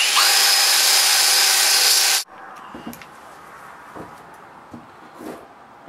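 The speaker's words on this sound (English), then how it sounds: "I'm gonna keep grinding with the 240 grit flap wheel disc, but this time I'm gonna be using WD-40" An axe head polished on a grinder fitted with a 240 grit flap wheel disc and WD-40 gives a loud, steady, hissing abrasive roar that cuts off abruptly after about two seconds, leaving faint scraping and handling noises.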